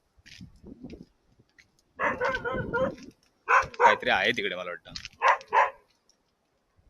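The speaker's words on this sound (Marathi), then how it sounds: "कोणाला तरी भुंकतोय तो" A dog barks in short bursts amid people talking nearby on a seashore, the barking coming and going.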